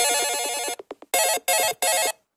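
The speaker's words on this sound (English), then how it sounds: "So that's the alarm sound." An Android 9 smartphone alarm ringtone plays bright repeating bursts, a short stuttering pattern followed by three loud pulses, with no one talking.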